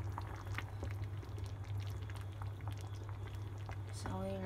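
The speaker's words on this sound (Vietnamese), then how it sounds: "sôi lên nó có bột" Beef and mushroom porridge made with half sticky rice, half plain rice simmers in a pot with a steady low bubbling burble, constant and soft throughout, with a faint clink near the end.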